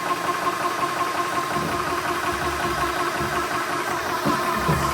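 A Goyojo PCP air compressor runs with a steady, loud mechanical drone and rapid rhythmic pulsing that continues unbroken.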